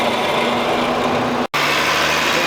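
A small engine idles loudly and close with a steady high-pitched drone, cut by a brief dropout before settling back into the same running hum.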